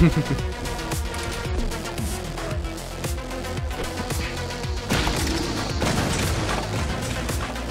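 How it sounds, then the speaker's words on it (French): In the video game Freaky Awesome, a dense run of booming blasts and crashing impacts plays over a rhythmic game soundtrack, loud and continuous throughout. "Explosion."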